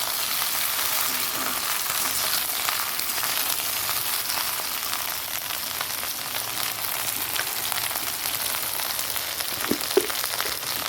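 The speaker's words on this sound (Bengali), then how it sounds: "ডালটা একটু ফোড়ন দেবো" Spices sizzle in hot oil for tempering lentil dal, a dense, even frying hiss throughout with a brief clatter of a utensil near the end.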